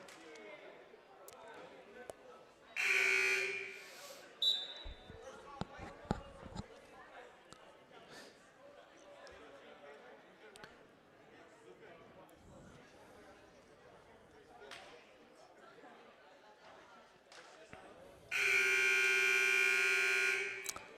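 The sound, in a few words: 60-second timeout buzzer in a basketball gymnasium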